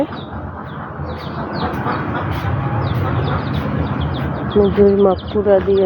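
Domestic ducks quack and chatter while being fed rice mixed with bran, against a steady, noisy background, with a few sharper, louder calls bunched toward the end.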